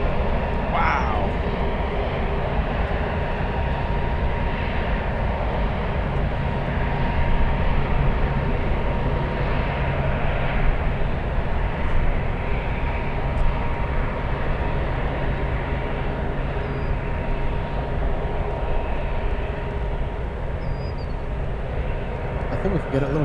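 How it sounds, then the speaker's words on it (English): An Emirates airliner at San Francisco Airport makes a continuous, loud low engine rumble and roar that holds steady the whole time, with voices talking over it. "We have to travel to places like San Francisco to see the Emirates flight."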